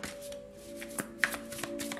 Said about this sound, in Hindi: तो चलिए शफल कर लेते हैं वृषभ राशि टॉरस साइन के लिए